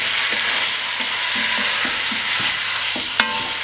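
Already-cooked food warms in a pan with harissa and garlic, sizzling steadily up close while a utensil scrapes and stirs in light, repeated strokes.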